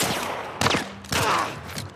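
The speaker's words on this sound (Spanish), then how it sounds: "Fue como muy fuerte el balazo" Several loud gunshots in The Last of Us video game crack in quick bursts, with a sharp report followed by a second heavy blast.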